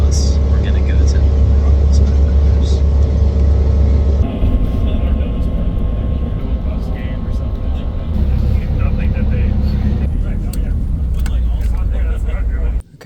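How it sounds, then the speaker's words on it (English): A city bus in Milwaukee rumbles along with a loud, low engine drone and road noise, shifting tone a few times as it moves, while a voice talks over it. "I'm on a bus."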